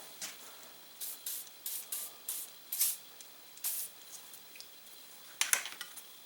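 Rust-removing spray is sprayed onto metal bayonets in a series of short, close aerosol hisses, followed by a slightly longer burst near the end.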